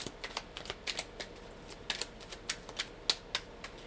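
Journaling cards are shuffled by hand in quick, crisp riffling flicks, a rapid irregular run of light papery taps close by and fairly quiet, with no talk.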